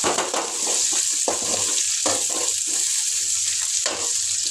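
Food being stirred in a hot pan with a steady frying sizzle underneath, as a spoon scrapes and turns it in a quick, repeated rhythm close up.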